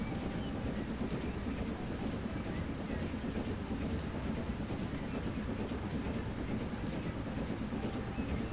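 A train rolls steadily through the West Haven rail yard in Transport Fever 2, a continuous low rumble with faint rhythmic clatter that holds at an even level throughout, with no talking.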